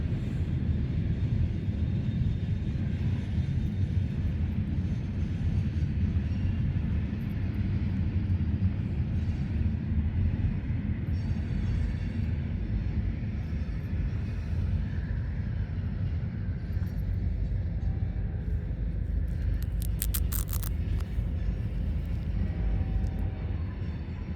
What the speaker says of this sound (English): there's another train sitting right down yonder